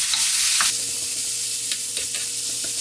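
Coarsely minced beef stir-fries for Korean rice cake soup, with a brisk sizzle at first, then a quieter steady frying hiss and a few light stirring taps, no talking.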